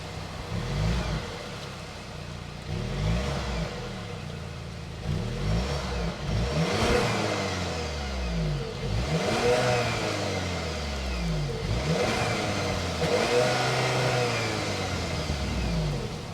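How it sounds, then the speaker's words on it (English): A 2025 Audi A3's 2-liter turbocharged four-cylinder engine revs repeatedly, rising and falling in a steady sequence of blips close by, loud and unaccompanied by talk. "that was the sound of the 2-liter turbocharged 4-cylinder engine sold by Audi for the 2025"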